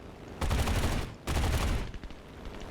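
High-velocity cannon on an F4U-4B aircraft in the War Thunder combat game fires in two loud, heavy sustained bursts, separated by a short gap, with rumbling low booms.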